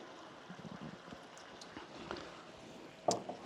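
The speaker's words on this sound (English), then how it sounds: "I'm pouring it right onto the fish." Teriyaki sauce poured straight onto a salmon fish fillet in a kitchen: a soft, steady liquid trickle, close but quiet, with a brief sharper splash or clink near the end.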